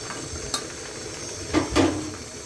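Chicken with capsicum and coconut-noodle spice mix stir-fries in a pan, a steady close sizzle broken by a few quick scrapes and clinks of the spatula against the pan.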